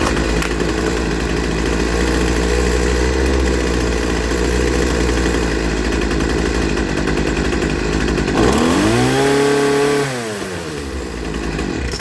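A Poulan Pro 25cc string trimmer engine runs loud and close after carburetor adjustment, holding a steady buzzing drone before dropping and wavering in pitch as it settles toward idle near the end.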